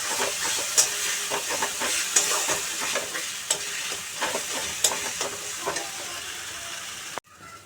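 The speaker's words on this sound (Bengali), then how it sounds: "এবার এটাকে ভালো করে ভাজা ভাজা করতে হবে" Green banana peels sizzle in a pan while a spoon scrapes and stirs in irregular strokes, close up; the sound cuts off abruptly at the end.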